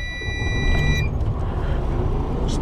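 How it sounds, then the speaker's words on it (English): A 2012 Freightliner Cascadia diesel truck engine turns over and settles into a low, steady rumble, close and continuous, with a few brief high electronic beeps from the dash near the start. "I'll have to start the truck here."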